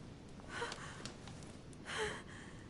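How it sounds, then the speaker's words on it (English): A woman breathes in the video game The Council, with faint, soft breaths and a quicker gasp near the end, low and close against quiet background noise. "Her breathing is becoming stable"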